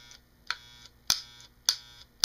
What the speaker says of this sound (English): you should hear the clack or clatter noise when the clipper first turns on